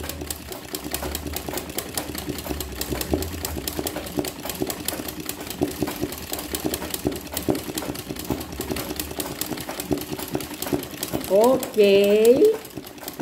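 An embroidery sewing machine stitches an apple design with a rapid, steady mechanical chatter throughout, while someone speaks briefly and a short tonal squeal rises near the end.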